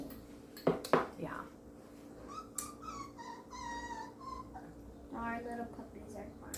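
Small puppies give several high, wavering whimpers and squeaks in short bursts, close by, with sharp knocks and clatter of dishes at a meal table; people talk nearby.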